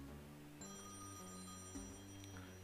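Phone ringing in the video game The Textorcist, a quiet repeating electronic ring with steady tones over soft background game music, with no voices.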